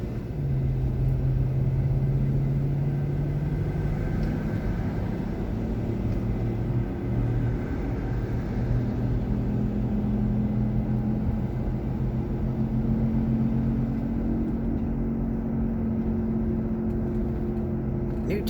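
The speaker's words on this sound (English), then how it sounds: "Come on, drive the freaking car." Car engine droning steadily while driving on a highway, a continuous low rumble with shifting tonal hum, loud and close throughout with no other sounds standing out.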